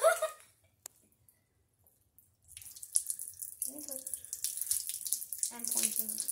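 Water poured through a bundle of drinking straws, preceded by a short splash and a click. After a pause, a continuous hissing, trickling stream follows, with faint voices underneath.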